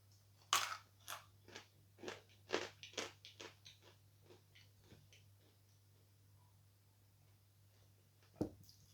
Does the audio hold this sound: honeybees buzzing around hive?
no